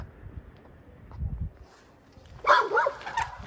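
A dog barks several times in quick succession fairly close by, over a low rumbling background.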